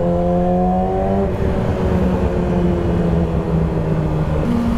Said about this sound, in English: Let's have it pop in the tunnel.